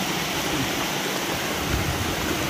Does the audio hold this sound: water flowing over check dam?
yes